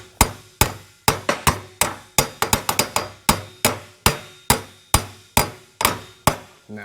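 Light hammer taps on a part of a 1960 Ford F-350 pickup, about twenty sharp metallic strikes in an uneven rhythm with brief clusters of quick hits, close and distinct with no talking.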